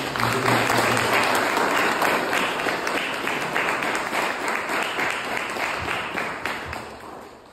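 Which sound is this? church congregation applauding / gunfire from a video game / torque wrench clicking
church congregation applauding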